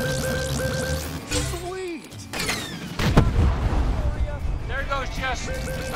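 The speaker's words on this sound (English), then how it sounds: "There go the bombs." Bombs explode in the Cars 3: Driven to Win racing game, a sudden loud blast followed by rumbling crashes and debris under engine whine and game music, with a person talking over it.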